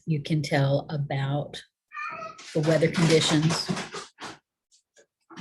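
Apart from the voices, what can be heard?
cats making weird noises in the background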